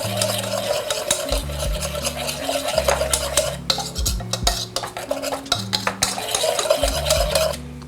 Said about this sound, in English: I'm gonna add my flour. I'm gonna whisk that together.